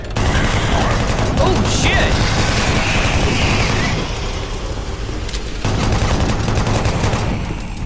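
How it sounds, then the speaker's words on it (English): Rapid sustained chain gun fire in Doom 3, a dense loud burst running nearly the whole stretch with a brief dip midway, mixed with game effects. "I love you, chain gun."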